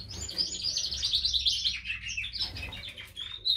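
Several birds singing and chirping, bright rapid trills and tweets overlapping in quick bursts, fairly close and clear over a quiet low background hum.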